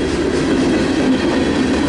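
A CSX M422 mixed freight train passing close at Washington Grove Station, a loud steady rumble with clickety-clack rail cars rolling by and no voices.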